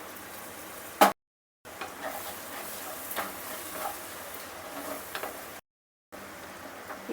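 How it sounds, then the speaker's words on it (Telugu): Tomato paste fries in oil for an okra masala curry, giving a soft, steady sizzle with light crackles that cuts out briefly twice. "టమాటా కూడా బాగా ఆయిల్ పైకి వచ్చేంత వరకు వేయించుకోవాలి"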